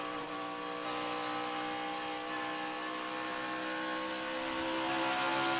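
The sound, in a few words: NASCAR race cars working the throttle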